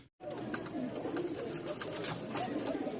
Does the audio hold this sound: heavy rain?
no